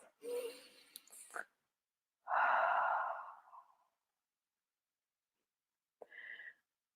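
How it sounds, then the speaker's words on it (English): A person takes a deep breath during a calm guided talk: a long, audible exhale like a sigh, preceded by brief breathy sounds and followed by a short soft breath, close and intimate with silence between. "take a deep breath"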